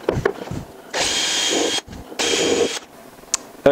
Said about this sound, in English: I'm just drilling these by eye